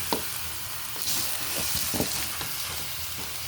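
Garlic, onion and ginger sizzle and fry in hot oil in a pan, a steady close-up crackle with occasional stirring scrapes, cooked as the base for a goat head and feet tamarind stew.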